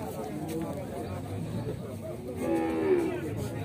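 A cow lows once, briefly, amid crowd chatter and an auctioneer's voice at a cattle fair in Capoeiras, Pernambuco, where dairy cows and heifers are being sold.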